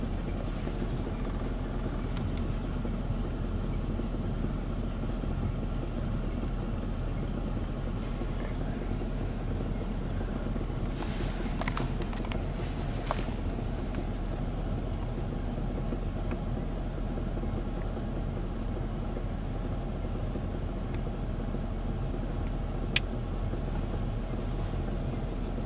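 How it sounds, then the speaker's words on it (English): Ryko Softgloss Maxx automatic car wash at a gas station, heard from a short distance as a steady low mechanical rumble and whir, with brief louder swishes partway through. "hear the car wash. Mm-hmm. So you can hear it from here."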